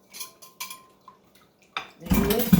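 A heavy whisk clatters in a bowl of egg pudding mixture for a Thanksgiving meal, a few sparse metallic taps giving way to loud, continuous scraping and rattling near the end, close and alone.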